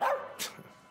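A nervous dog gives a single short bark in the video game As Dusk Falls, fairly close and sharp, followed by a faint trailing whimper.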